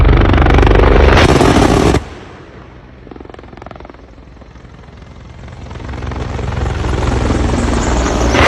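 Mi-24 attack helicopter flying, its loud rotor and turbine roar filling the first two seconds, then dropping to a distant drone before swelling steadily louder again as the aircraft approaches.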